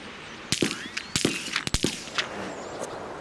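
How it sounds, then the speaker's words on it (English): Rifles fire live on an outdoor military training range at targets set up to 300 metres, with several sharp, loud cracks at irregular intervals and some distant shots among them over a faint outdoor background. "he's now graduated to live firing on the ranges at a virtual enemy"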